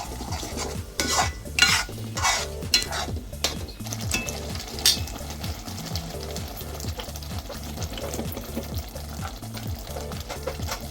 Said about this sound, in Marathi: आता हे कांदा टोमॅटोच्या पेस्टला तेल सुटेपर्यंत हे मिश्रण आपण भाजून घ्यायचं आहे छान।